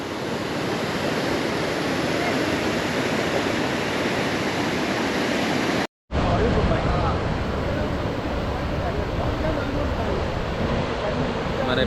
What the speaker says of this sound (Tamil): பக்கத்தில் தண்ணி செம்மையாக வருது